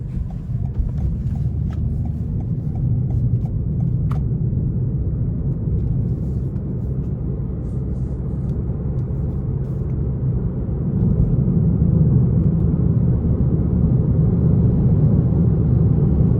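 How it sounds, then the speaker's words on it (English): A 2021 Toyota Corolla Hatchback XSE with a CVT on a test drive, a steady low road rumble and engine hum heard from inside the cabin that grows slightly louder later, with a few faint clicks early on. "So next it's time to take this Corolla Hatchback XSE out on the road for a quick test drive."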